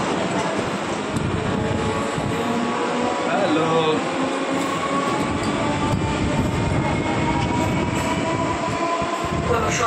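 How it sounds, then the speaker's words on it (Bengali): The empty carriage of a moving train rumbles steadily from inside, with a constant low roar and rattling running throughout, and faint voices beneath. "দেখো ট্রেন চলে এসেছে। এখন আমরা উঠে গেছি।"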